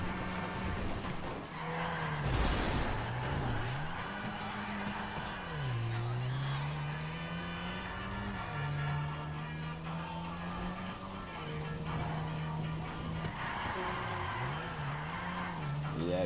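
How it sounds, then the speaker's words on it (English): A car drifting, its engine revving and sweeping up and down in pitch over a long steady stretch, with tire noise blended into the drone and a voice talking intermittently over it. "Drifting, baby."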